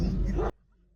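A male Alabai dog, a Central Asian shepherd from the Labap region of Turkmenistan, gives one loud, close bark that cuts off abruptly into quiet.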